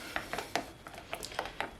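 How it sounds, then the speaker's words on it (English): A utensil stirs peach colorant into whipped body butter in a container, giving a series of soft, quick scraping and tapping clicks in an irregular rhythm, faint and close. "I'm just going to stir this in."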